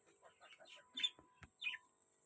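Pigeons in a home breeding loft give a few soft, brief calls and chirps at close range, with quiet pauses between them and no talking.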